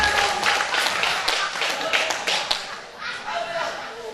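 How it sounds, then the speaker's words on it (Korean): A church congregation at an evening healing revival for pastors and their spouses claps in praise, a brisk burst of hand claps that thins out and fades midway, with voices and background noise continuing underneath. "하나님께 영광의 박수 주시겠습니다."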